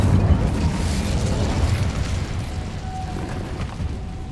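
A fiery blast from the Incendio spell in Hogwarts Legacy roars as a dense, rumbling burst that slowly fades, with no talking.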